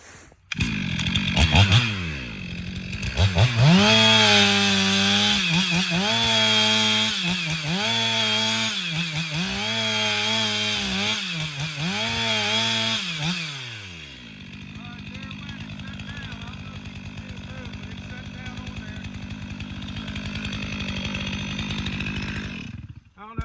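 Chainsaw cutting the hinge while felling a tree during wet-weather logging: close, loud engine revving in repeated rising and falling pulses, then settling into a steady idle-like drone, with no voices.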